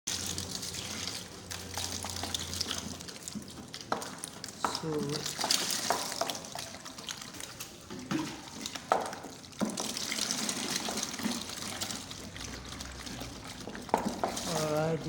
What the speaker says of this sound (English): we are going to transfer it to a bigger bowl where we can add water